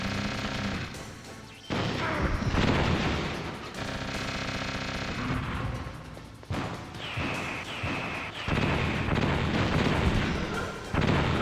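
Missile and weapon fire in the video game Metal Gear Solid, a dense run of loud blasts, bursts and crashing impacts over music-like game sound, with brief gaps between heavy volleys.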